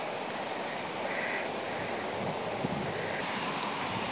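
Wind blowing through trees, a steady soft broadband rush with gentle swells and faint rustling, continuous and fairly quiet throughout, with no voices.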